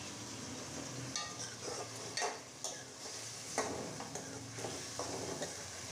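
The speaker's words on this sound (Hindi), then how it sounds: "इस घी में इसको, मटन को पहले हम फ्राई करेंगे 5 मिनट के लिए।" Mutton fries in ghee in a pot, a steady close sizzle broken by repeated scraping and stirring clicks of a spoon, with no talk over it.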